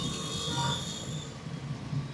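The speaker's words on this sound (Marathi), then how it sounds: "तो मेट्रो बघा चालली पावसात।" A metro train runs through heavy rain in Pune: a steady rumble with a faint tonal whine under continuous rain hiss, heard from a distance.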